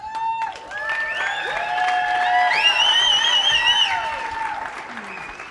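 Audience applause and cheering at an online business marketing academy event as a top distributor named Diane is called onstage, with a steady crowd roar, tonal music lines running through it, and a voice near the start.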